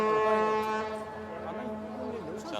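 A deep ship horn blares steadily on the Huangpu River in Shanghai, loud and sustained with rich tones, while someone talks over it during an archery match broadcast.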